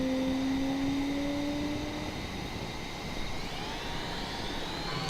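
A de Havilland Vampire jet engine in MSFS 2020 runs steadily and loudly, with a constant roar and high whine, and a lower tone slowly sliding down while a higher pitch rises gradually; no one talks.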